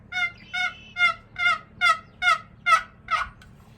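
A human caller imitates a soft hen turkey using a mouth diaphragm call, producing eight evenly spaced, clear yelps in a steady rhythm, close and alone.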